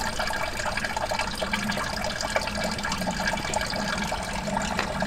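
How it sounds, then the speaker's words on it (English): Coolant draining from a cracked radiator on a 6.0 Powerstroke truck, a continuous trickling, splashing flow of liquid, moderately close and steady with no pauses. "I've already started draining the coolant out of the system"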